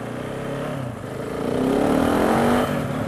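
A motorcycle engine drones steadily, its exhaust note rising as the revs climb, then holding a loud, continuous tone.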